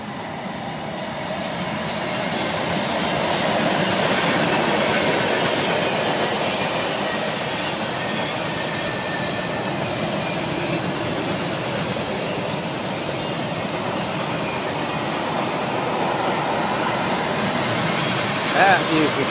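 A Norfolk Southern freight train rumbles past nearby, a loud continuous roar of rolling cars and wheels on rails that swells and holds steady.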